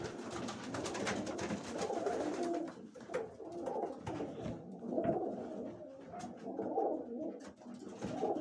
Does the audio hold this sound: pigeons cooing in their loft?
yes